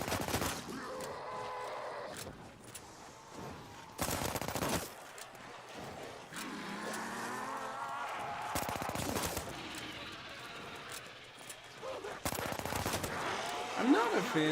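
Machine pistol fire in a Call of Duty Zombies match, heard as several short bursts of rapid shots spread across the stretch, loud and mixed with game sounds, growls and effects, with talking throughout.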